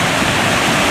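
Secret Falls in the Smoky Mountains of Tennessee pours in a loud, steady, close rush of water that fills the whole moment without pause.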